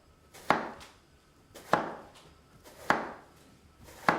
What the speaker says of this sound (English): we're going to take the eggplant, we're going to slice it right down